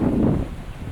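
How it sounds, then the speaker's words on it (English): Strong wind buffets the microphone outdoors in a brief, loud rumbling gust with no voices. "really windy. You can hear it."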